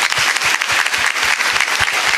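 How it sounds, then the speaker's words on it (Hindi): A devotional question-and-answer gathering claps together, loud and close, with a rapid, even patter of many hands throughout. "97 के लिए ताली तो बजा दो यार।"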